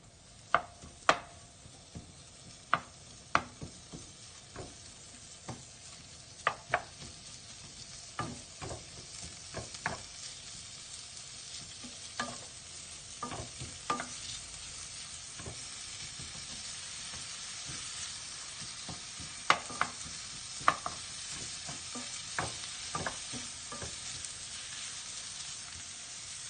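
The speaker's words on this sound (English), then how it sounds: "I want the bacon fat to render down as well." Bacon frying in a pan for a liver and bacon casserole, a soft steady sizzle with hiss running throughout, punctuated by sharp clicks and scrapes of stirring against the pan.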